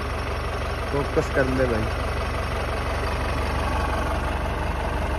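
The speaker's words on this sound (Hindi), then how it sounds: "2002 का इंजन है इसके अंदर।" The engine of a 2002 Mahindra MDI jeep idles in a steady, low rumble that runs the whole time, and someone speaks briefly over it near the start.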